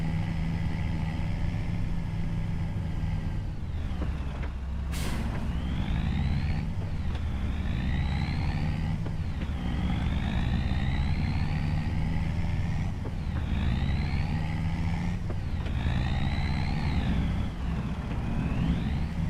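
A truck engine idles steadily and loudly throughout, a constant low rumble with periodic rising whine-like tones, no talking.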